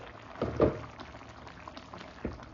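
A pot of simmering chicken curry gets stirred, with a few soft wet thick-liquid bubbles and a spoon scrape over a low background, fairly close and quiet.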